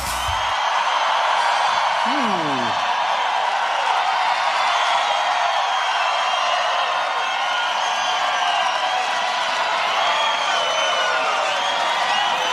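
A large crowd at a Trump thank-you rally in Des Moines, Iowa cheers and roars in a dense, sustained wash of noise, with a brief voice near the start.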